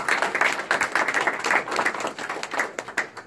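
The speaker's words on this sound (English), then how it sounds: "let's hear a round of applause for Selena" An audience at a VR/AR industry chapter event claps for an introduced speaker: a brisk, dense patter of hands that stays fairly even throughout.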